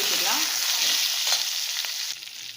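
Peeled, cut yellow pumpkin pieces fry in a pan, giving a loud, steady sizzle with stirring scrapes throughout that thins out near the end.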